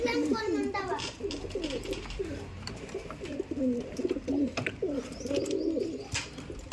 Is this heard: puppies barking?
no